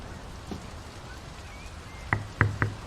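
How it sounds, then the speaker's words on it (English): Steady rain falls in the video game Draugen, set by a Norwegian fjord, a soft continuous wash with a few louder knocking drops near the end. "The rain's picking up."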